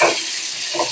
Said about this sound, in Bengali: মাছ ভাজাটা দেখো হালকা আঁচে ভেজে মাছটাকে আমি